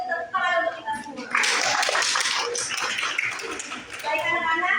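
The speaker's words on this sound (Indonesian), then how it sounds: "Tepuk tangan untuk kita semua." Students in a classroom clap for one another after group presentations, a burst of applause lasting a few seconds, with a teacher's voice heard before and after it.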